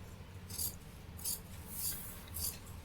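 Scissors cutting uniform shirt fabric along a marked line, four evenly spaced crisp snipping strokes about half a second apart, close and fairly quiet over a low background hum.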